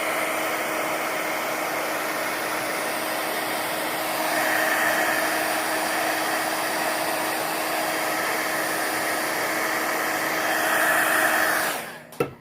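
A hair dryer blows steadily and close by, drying a page of an altered book, a continuous broadband whoosh that runs nearly twelve seconds before cutting off abruptly.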